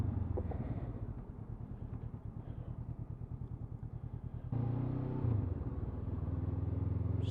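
A 2023 Honda CB500X motorcycle engine holds a steady, close rumble while engine braking after a downshift into third on an open road, with wind noise. The pitch shifts and grows louder partway through as the gear drops.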